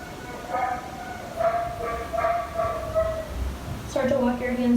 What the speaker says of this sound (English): Apologies if you can hear my dog whimpering and barking in the background